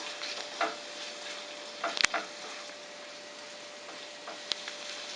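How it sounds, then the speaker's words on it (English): Soft, steady sizzle of tacos deep frying in oil, with a few light clicks and stirring scrapes scattered through. "we are deep frying these tacos"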